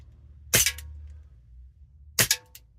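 Airsoft Colt 1911 pistol by Cybergun firing with slide action: two sharp, loud snapping shots about a second and a half apart, each with a quick mechanical slide clack, close and with no talk.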